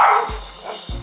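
A dog gives a couple of close, loud barks about half a second apart in a room where a toy train set is being played with, without anyone talking.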